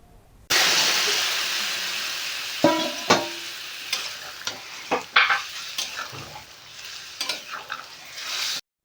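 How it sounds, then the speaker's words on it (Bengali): Fish frying in a little oil tempered with fennel seeds for Bengali fish curry, loud steady sizzle bursting in suddenly, with spatula scrapes and clinks on the pan, close up. "এরপর তুলে রাখা মাছটা ওই ফোড়নের মধ্যে দিয়ে দিতে হবে"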